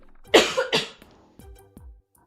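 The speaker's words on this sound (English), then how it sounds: "I'm coughing." A person coughs: two sharp, close coughs in quick succession, followed by two softer, shorter coughs after a brief pause, then quiet.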